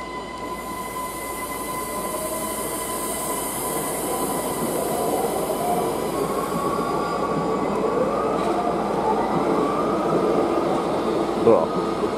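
A Siemens Desiro electric train pulls away at Kufstein station, its motors humming and whining in rising tones over a steady rail rumble, with faint voices nearby.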